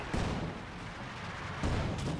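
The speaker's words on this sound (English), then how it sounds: "Mortar emplacements are returning fire on the infantry support guns" Mortar emplacements firing in Company of Heroes 2, a World War II strategy game: two dull, faint booms roughly a second and a half apart over a low battle rumble.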